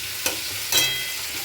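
Masala for fish curry fries in a pan with a steady soft sizzle, broken by two quick scraping stirs close by.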